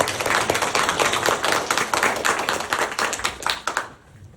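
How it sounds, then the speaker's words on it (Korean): An audience at a residents' briefing on public redevelopment claps in sustained, dense applause that stays loud throughout and then cuts off abruptly at the end. "다시 한번 큰 박수로 환영해 주십시오"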